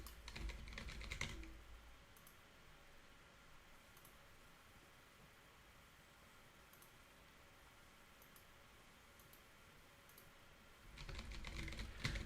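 Computer keyboard keys clack in quick bursts of typing at the start and the end, with a faint quiet stretch between them, close and fairly soft.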